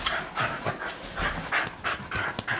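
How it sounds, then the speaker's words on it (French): A large female dog pants in quick, steady breaths close by, with no talk over it. "Une grande chienne."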